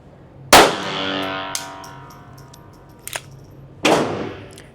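A Smith & Wesson M&P 22X pistol fires two sharp, loud single shots several seconds apart, each one ringing out, with a faint metallic clink between them.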